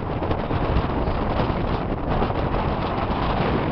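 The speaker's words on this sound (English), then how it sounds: "We're on the walking trail, and it's very windy." Strong wind buffets the microphone on a walking trail in Fredericton, New Brunswick, a loud continuous rumbling roar with no pauses and no voices.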